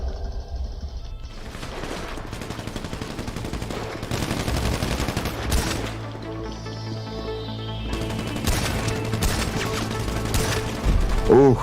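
Video game gunfire: rapid automatic bursts and single shots, loud and close, going on almost without pause under excited players' talk.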